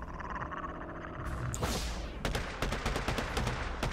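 Rattling bursts of gunfire in the video game Predator: Hunting Grounds crackle in quick succession, with a sweeping whoosh before the shots, moderately loud and without talk.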